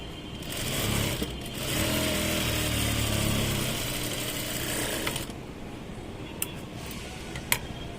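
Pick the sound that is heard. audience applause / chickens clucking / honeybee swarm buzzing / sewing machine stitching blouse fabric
sewing machine stitching blouse fabric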